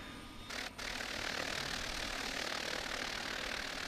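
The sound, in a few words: aircraft engine starting up in Microsoft Flight Simulator X video game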